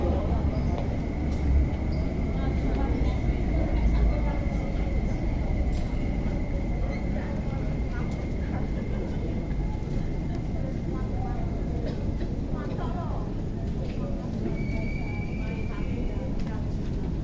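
A Hong Kong train waits at a station platform, giving a steady, loud rumble with a faint tonal hum throughout, while voices and announcements sound faintly beneath it.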